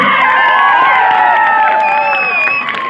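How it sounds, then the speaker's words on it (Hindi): Audience at a Bhojpuri stage show cheering and clapping, a loud, dense, continuous roar of voices and applause with whistles on top, steady throughout. "एक बार जोरदार ताली चालू करके"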